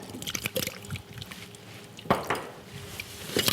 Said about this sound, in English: And we give it a good stir, a really good stir, so everything mixes well